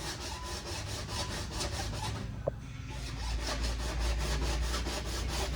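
A metal file rasps along a ski edge in steady, rhythmic back-and-forth strokes, close and continuous, with a brief pause near the middle and no talking.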